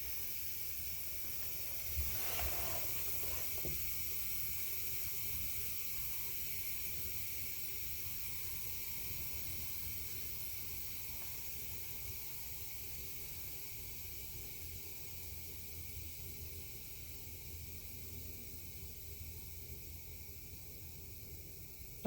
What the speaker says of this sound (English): when that steam starts to release